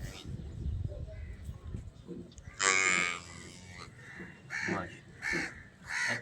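Nili-Ravi buffalo on a Punjab farm, lowing in several deep, drawn-out calls, the loudest near the middle followed by shorter repeated moos, with farm background noise between them.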